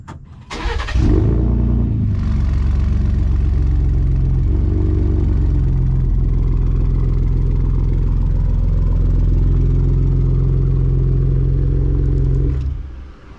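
A 2020 Ford Raptor pickup with a 3.5-liter V6 and aftermarket exhaust cranks and fires up, then settles into a loud, deep, steady idle rumble for about ten seconds before shutting off.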